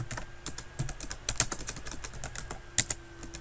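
Computer keyboard typing in a spreadsheet, quick irregular clicks of keystrokes, close and fairly quiet, with no talking.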